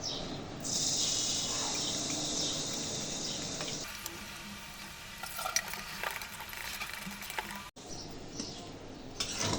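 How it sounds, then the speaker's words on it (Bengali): Whole garlic cloves sizzle and crackle as they fry in oil for a mango pickle, a steady bright hiss broken by stirring scrapes, with one brief gap in the sound. "এখন এই গোটা রসুনগুলো ভেজে নেব"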